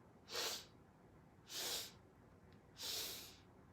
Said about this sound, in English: Exhale, 3 sniffs, a little hold, and then slow down.